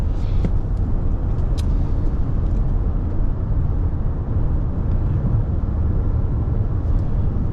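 Inside a 2024 Toyota Grand Highlander Platinum Hybrid MAX on the move, its 2.4 liter turbo gas engine and road noise make a steady low rumble, joined by a few brief faint higher sounds.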